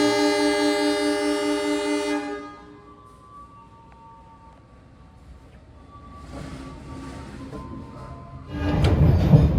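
KA Kahuripan economy train departing Sragen station: a loud sustained horn blast for about two seconds, then a hushed pause, then rumbling noise that swells sharply as the train starts moving.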